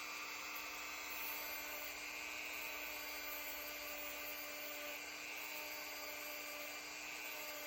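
Dremel rotary tool grinding down the trigger detent of a Zastava M70 rifle, a constant high-pitched whine held steadily, close and unbroken throughout.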